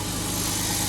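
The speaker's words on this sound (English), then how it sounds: "Engine runs real nice. Very smooth." 2009 right-hand-drive Jeep Wrangler with about 300,000 miles and a swapped 3.8 L engine idling smoothly, a steady, close, even rumble with no talk over it.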